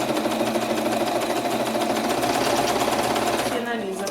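Sewing machine stitching a seam on a zipper pouch, running loud and steady with a continuous rapid mechanical whir before stopping near the end.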